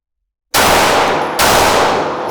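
Two loud, close rifle shots from a gun fitted with a binary trigger, spaced under a second apart, each with a sharp crack and a ringing tail that runs into the next, with no voices present.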